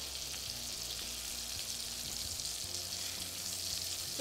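Thin veal cutlets pan-fry to a golden crust, giving a steady, soft sizzle and crackle of hot oil that runs evenly throughout without talk.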